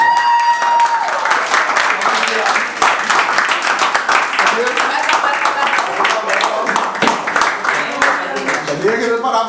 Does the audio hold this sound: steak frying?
no